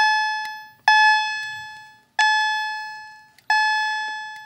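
A System Sensor BG-12 fire alarm horn strobe, run from a homemade controller, sounds three loud electronic tone blasts in a slow repeating pattern, each sharp onset decaying before the next, with no talk.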